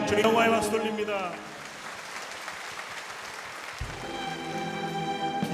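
Church congregation clapping in praise during a worship service, a broad wash of applause between stretches of amplified singing or music at the start and end.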